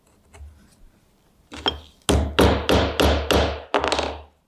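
A chisel struck with a mallet to chop a mortise in wood for a stool: a few light taps, then six loud, evenly spaced heavy blows with woody thunks, close up.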